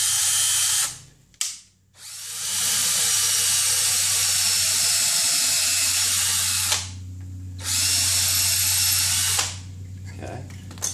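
A power drill bores a hole in wood, running in long loud whining stretches broken by short pauses and restarts, close up with a low hum underneath.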